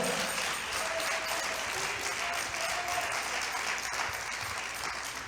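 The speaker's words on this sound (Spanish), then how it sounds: "Dele palmas al Señor de la gloria." A church congregation claps together in sustained, dense applause, a steady wash of many hands at moderately loud level that continues without pause throughout.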